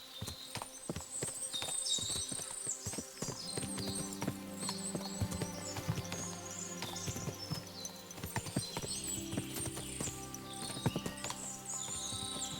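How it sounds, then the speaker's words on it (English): Several horses walking on hard ground in Kingdom Come Deliverance II, steady overlapping clip-clop of hooves, close and fairly quiet, with an occasional whinny and no talking. "What a lot of horses!"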